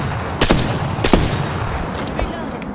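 Two loud gunshots crack in quick succession in an Apex Legends-style battle royale match, followed by fainter distant shots over a steady background.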